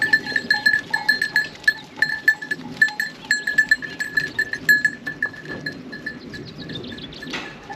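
Goats on a farm in central Portugal bleat and call repeatedly in the rain, close by, with metallic bell-like clinks scattered throughout and a busy, restless rhythm.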